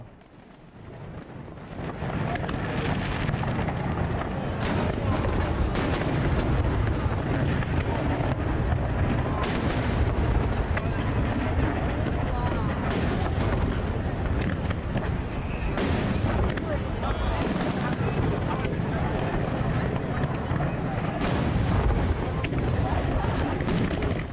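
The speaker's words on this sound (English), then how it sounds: "The Detroit River changes colors every now and then depending on what fireworks are going off." Fireworks going off over the Detroit River in Windsor make a dense, continuous rumble of overlapping booms and crackling bursts that holds loud throughout.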